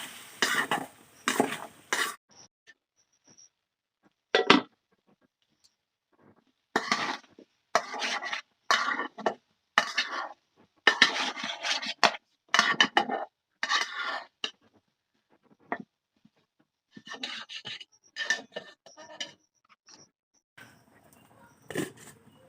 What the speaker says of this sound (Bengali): মশলাগুলোর সাথে আমি আলুগুলোকে ভালো করে মিশিয়ে দিচ্ছি।